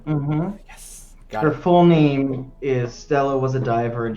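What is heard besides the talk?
No everyday noises stand out.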